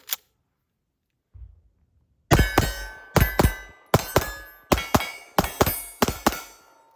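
Double-tap shots from a Viking Firearms 1911DS/2011 hybrid compensated, ported 4.6 pistol: five sharp paired reports ring out at a steady pace, each pair followed by a metallic clang of steel plates, loud and close after a brief quiet start.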